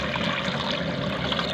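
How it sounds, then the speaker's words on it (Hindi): Water is poured into a kadhai on a stove for boiling rice, a soft, steady trickle and splash lasting a moment, heard close and without any talking. "अब हम इसके अंदर पानी शामिल करेंगे।"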